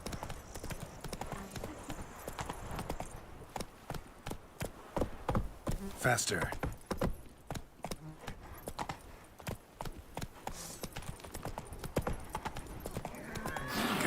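Hoofbeats of the horse Roach galloping in The Witcher, a loud, rhythmic clip-clop that goes on throughout, briefly easing and picking up again, while a man calls out to the horse.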